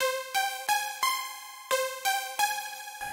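A Serum synth oscillator with unison turned up gives a wide, buzzy tone that plays a rhythmic run of about nine short plucked notes, clear and alone.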